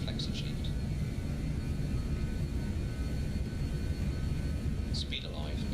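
Airliner engines spool up to takeoff power in Microsoft Flight Simulator 2020, a steady broadband roar that holds loud and even throughout. Faint high chirps come near the start and end, and a voice speaks over the engines.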